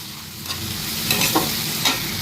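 Spices sizzling and frying in a pan of oil for kochu shak (taro leaves) with hilsa fish head, a steady close hiss with a few sharper bursts as the mixture is stirred.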